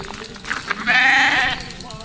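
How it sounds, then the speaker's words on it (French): A sheep being chased and caught during Eid al-Adha in Morocco lets out one loud, wavering bleat at close range, with outdoor commotion and voices around it. "Là ils sont partis pour attraper le mouton."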